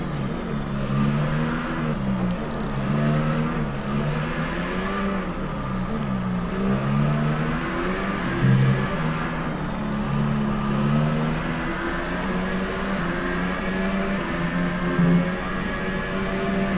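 F1 2018 race car engines at the French Grand Prix, a steady high whine of revving engines that rises and falls continuously, one car passing close with a brief swell in loudness.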